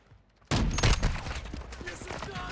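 Sniper fire in the video game Warzone 2.0 bursts in suddenly as a loud, close volley of shots with echoing reports, followed by continuing gunfire and a rumbling tail that fades slightly toward the end.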